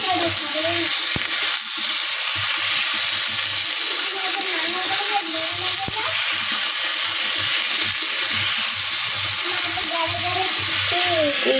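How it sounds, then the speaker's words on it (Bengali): A rohu fish curry with lentil dumplings and potato, seasoned with salt and turmeric, bubbles and sizzles loudly in a pan, a dense continuous hiss with occasional sharper pops and a voice talking faintly underneath. "ঝোল হচ্ছে বড়ি দিয়ে আলু বড়ি দিয়ে ঝোল হচ্ছে দেখো"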